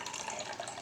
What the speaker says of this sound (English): you're going to pour the distilled water